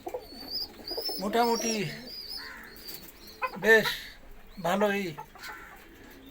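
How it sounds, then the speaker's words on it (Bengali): Pet pigeons and their chicks coo softly in a few short bursts close by, while a person talks over them. "এই যে কবুতরের বাচ্চা, কবুতর পালন করি"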